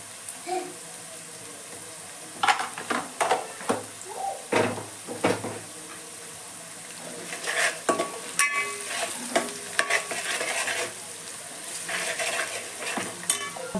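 Cumin, mustard seeds and coriander powder sizzle in a hot pan while a spoon stirs and scrapes, with steady frying hiss and repeated clinks and scrapes close by.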